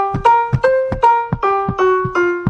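A blues scale played as a run of distinct pitched notes, each struck with a clear attack and sustained tone, stepping through the scale at a moderate even pace, close and alone.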